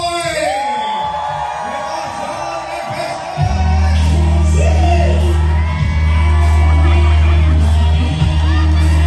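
An audience at a live show cheers and whoops loudly, a dense sustained crowd roar with yells rising over it and a deep steady hum underneath.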